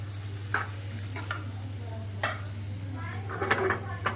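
Prawns cook in a home-kitchen pan with a faint steady sizzle, broken by occasional stirring clinks of utensil on metal.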